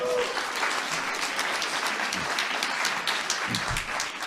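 An audience applauds with dense, sustained clapping at a talk show taping, steady and loud throughout with faint background voices.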